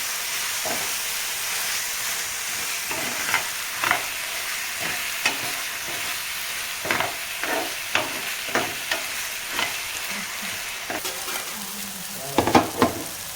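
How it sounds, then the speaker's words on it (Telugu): A dhaba style paneer curry is stirred in a pan over a low steady sizzle, with a run of distinct scraping and clinking strokes from the spoon, getting busier toward the end. "ఇప్పుడు బాగా కలుపుకోవాలి"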